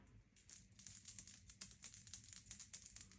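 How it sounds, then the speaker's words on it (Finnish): Metal keys jingle and clink in quick, irregular bursts, close by and fairly quiet, with no talking. "Voitko heiluttaa niitä avaimia?"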